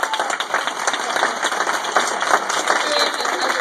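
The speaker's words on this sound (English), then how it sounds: "let's give Sharon a round of applause." An audience applauds a speaker at an indoor talk, steady dense clapping throughout at moderate loudness with no voice over it.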